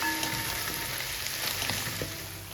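Okra and onions fry in a pan with a steady, close sizzle and crackle, a dense continuous hiss with small pops and stirring scrapes, no voices.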